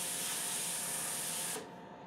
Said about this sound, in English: as you can see, the fan is pulling that steam.